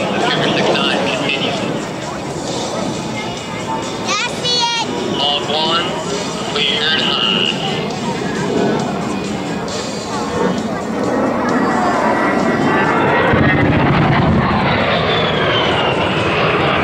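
An A-10 attack jet flies past at an air show, a loud continuous engine roar that rises and shifts in pitch, with a commentator talking over it throughout.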